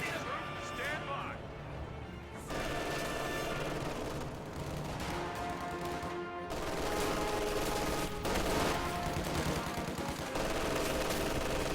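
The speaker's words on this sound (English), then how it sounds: "MG42 engaging against the rifleman on this strategic point" MG42 machine gun fire in the strategy game Company of Heroes 2, loud sustained bursts with sharp onsets and short gaps, layered with other battle noise and crashes.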